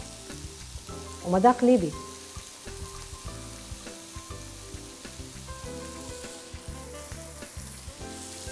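Chicken kofta with onion, sweet pepper and red pepper powder sizzles steadily in a pan, a continuous crackling fry with a brief louder stir near the start and a short spoken phrase over it.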